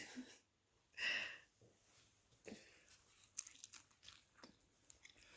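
Someone bites into a homemade chicken and cheese pita pizza and chews, a sharp crunch near the start followed by softer, close, intermittent chewing noises with a few breaths.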